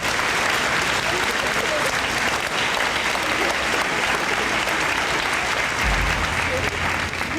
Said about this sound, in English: Would you join me in a round of applause for these groups?